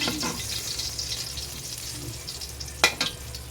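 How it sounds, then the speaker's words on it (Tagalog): Steady, fine sizzling of burnt ham frying in a pan, with a soft hiss throughout and a couple of brief clinks near the end. "Prito ko ng sunog na ham."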